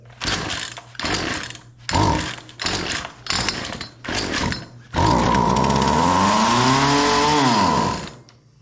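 A chainsaw is pull-started: five rhythmic cord pulls with brief sputters, then the engine catches and roars loud and steady, revving up before winding down, heard up close on a toolbox during a repair.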